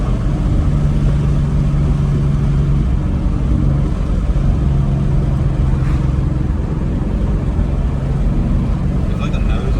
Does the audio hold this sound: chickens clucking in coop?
no